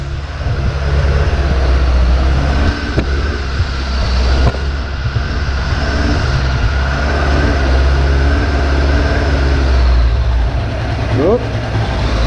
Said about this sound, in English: See if we have that wandering idle for a bit.